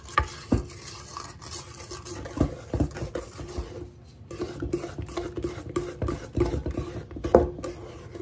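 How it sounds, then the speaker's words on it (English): A spoon stirs eggs and vanilla into sugar for brownie batter, making soft, irregular scraping strokes against the bowl, quiet and close, with no talking. "Now we got to stir that and make sure I got that mixed really good."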